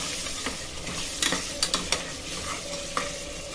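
Ginger, fried onions and tomatoes for biryani sauté in a pan with a close, steady sizzle, while a spoon clicks and scrapes through it in several quick strokes.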